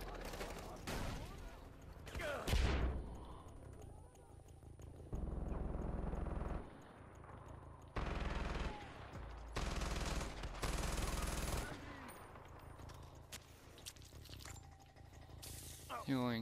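Gunfire in the shooter game Far Cry 4 on a custom map, in several sustained bursts of automatic fire with pauses between them, and someone talking over parts of it.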